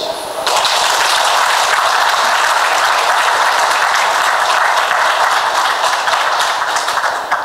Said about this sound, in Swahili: Makofi machache.